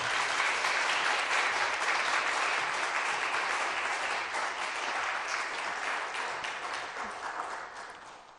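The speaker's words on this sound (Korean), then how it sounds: "박수로 모시겠습니다" A church congregation gathered for a Sunday afternoon service claps together in sustained, even applause, a thick steady patter of many hands that holds for several seconds before softening toward the end.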